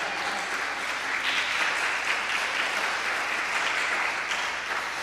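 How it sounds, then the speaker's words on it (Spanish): A Spanish-speaking church congregation claps together during a Sunday service, a thick, sustained wash of applause that holds steady throughout with no pauses. "Denle un fuerte aplauso al Señor."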